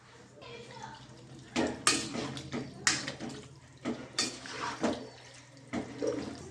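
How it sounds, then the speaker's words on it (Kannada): Water splashes and pours into a metal pot of raw jackfruit in several short bursts, with faint clinks of cookware and a low hum in the background. "ಸ್ವಲ್ಪ ನೀರು ಹಾಕುವ ಇದಕ್ಕೆ ಅದು ಸ್ವಲ್ಪ ಬೇಯಲಿ ಅಂತ ನಾನು ನೀರು ಹಾಕ್ತಿದ್ದೇನೆ"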